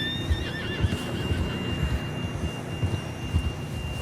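A horse gives a wavering whinny in the video game Red Dead Redemption 2, then low rumbling ambience and soft hoof thuds continue beneath it. The neigh is fairly clear and comes at the very start.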